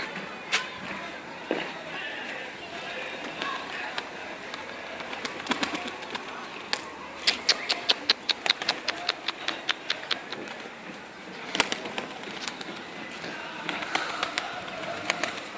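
Soft pigeon coos repeat at a moderate distance alongside bursts of wing flapping and light background noise, fairly quiet throughout.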